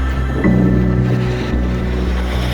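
Ocean waves and wind on the shore near Reykjavik, Iceland, with a steady low roar of surf and gusts buffeting the microphone continuously throughout, loud and close, with no voices.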